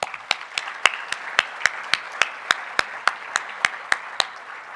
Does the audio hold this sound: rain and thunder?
no